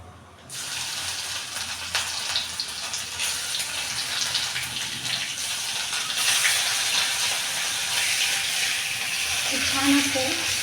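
Finely chopped onion sizzles steadily in a hot pan while a vegetable dish is cooked, a loud, continuous frying hiss lasting throughout, with faint clinks near the end.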